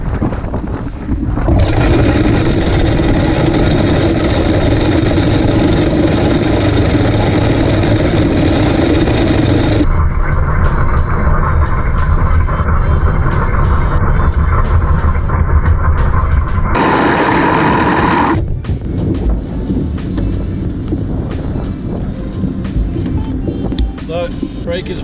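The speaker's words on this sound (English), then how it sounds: "as soon as I release the brake, that will free fall." A yacht's anchor chain runs out fast as the windlass brake is released, giving a loud, continuous rushing rattle that drowns out everything else, then stops abruptly as the brake is reapplied. Wind and boat noise continue afterward.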